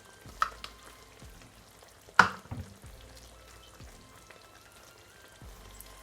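Seasoned ground beef sizzling in a pan, stirred and turned over with soy sauce and seasonings added, with a soft steady fry, scattered spatula scrapes and one sharp clack against the pan partway through.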